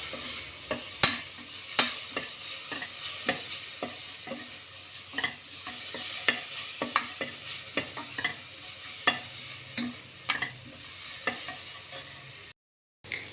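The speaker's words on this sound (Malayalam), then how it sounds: "1/4 ടീസ്പൂൺ മഞ്ഞൾപ്പൊടിയും 1/2 ടീസ്പൂൺ മുളക് പൊടിയും ഇട്ടിട്ട് നന്നായിട്ട് വഴറ്റുക." A spoon stirs and scrapes garam masala, turmeric and chili powder sautéing in a pan, with steady rhythmic clinks against the metal over a soft sizzle, close and clear with no talking.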